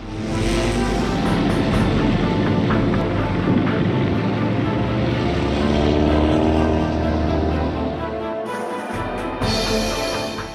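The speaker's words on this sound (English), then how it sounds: "led by Admiral Statsuru Burokuru, dispatches aircraft to keep tabs on the Royal Navy ships." Propeller aircraft in the naval game World of Warships drone loudly and continuously, a thick engine roar with layered whine, briefly dropping out near the end before resuming.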